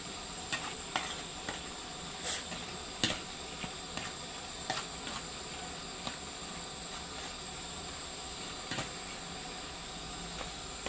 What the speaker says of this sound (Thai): ผัดไปจนกว่ามะเขือให้มันเละๆนะคะ